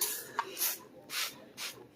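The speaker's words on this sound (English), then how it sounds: "spray it down pretty good" Three short bursts from a spray bottle of 409 cleaner misting onto a grimy faceplate of a vintage Pioneer stereo receiver, each hiss close and crisp with brief pauses between.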